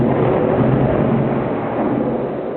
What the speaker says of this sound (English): Thunder and lightning. Wow. You hear that? There's really a storm outside.